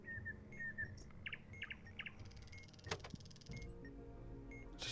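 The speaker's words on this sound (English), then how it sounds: "And then we got just like birds, various like nature sounds." Faint, scattered bird chirps and short tweets over a quiet outdoor background, with a brief mechanical whir partway through.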